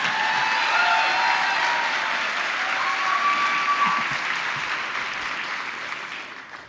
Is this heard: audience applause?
yes